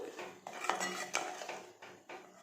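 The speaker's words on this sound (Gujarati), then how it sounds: "હવે આપણે તેની અંદર લીલા ધાણા એડ કરી દઈશું બરાબર મિક્સ કરી લઈશું" Green coriander being stirred into Gujarati kadhi in a pot, heard as a run of light metallic scrapes and clinks of a spoon against the pot, close and fairly quiet, with no talking.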